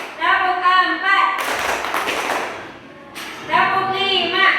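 Classroom of children clapping hands in a short rhythmic pattern on cue, a burst of sharp claps lasting under two seconds between a woman's spoken commands before and after.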